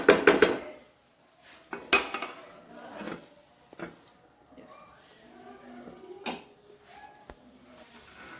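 Metal clatters in a Kerala kitchen as a lid goes onto a cooking pot of herb thoran, a few sharp clanks and scrapes separated by quiet pauses.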